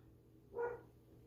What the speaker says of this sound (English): My dog's going crazy outside, barking at the children across the street playing in the playground